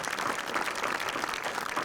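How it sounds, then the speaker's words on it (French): An audience applauds a guest joining the stage at a film event, steady dense clapping throughout without much crowd noise. "Et je crois qu'on peut l'applaudir."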